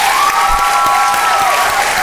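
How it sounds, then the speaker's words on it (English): Audience at a literary festival applauding in a steady, dense wave of clapping that fills the room for the whole stretch, with a faint voice carrying faintly over it. "Can we get one more round of applause?"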